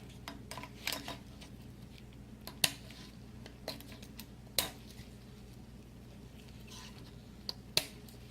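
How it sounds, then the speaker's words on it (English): Sharp, crisp scissor snips cutting motorcycle exhaust header wrap come at irregular intervals, about half a dozen quiet cuts against a soft background. "Now you can cut them with your scissors."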